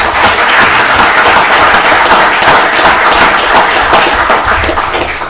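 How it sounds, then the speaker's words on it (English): Sustained audience applause fills a city commission meeting room, dense steady clapping from many people at close range, loud and continuous for several seconds and tapering slightly at the end. "So give a round of applause."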